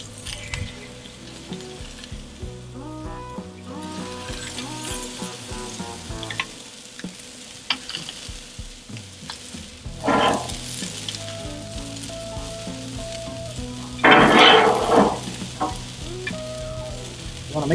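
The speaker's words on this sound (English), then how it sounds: "We're just going to take our balls and we're going to drop them right down on the griddle top." Ground chuck balls for smash-style sliders sizzle steadily on a Blackstone griddle top, a constant close hiss with scraping and clanks from a press and spatula, and two louder bursts of spitting.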